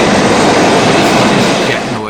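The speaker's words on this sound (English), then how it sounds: "Jet noise." Loud, steady broadband roar of a passing aircraft, filling the whole stretch and fading slightly near the end, with a voice talking over it.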